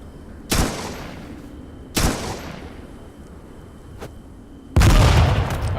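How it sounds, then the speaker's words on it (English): Grenade blasts in the video game Atom RPG: three sharp, loud booms spaced a second or two apart, each trailing into a rumbling decay, with a faint click between them. "I kind of knew he was going to throw that grenade"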